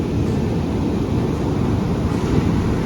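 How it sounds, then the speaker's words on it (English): Loud, continuous roar of Atlantic Ocean surf crashing nearby on the Irish coast, with deep rumbling water and some wind buffeting the microphone. "The sound of the crashing waves was so intense."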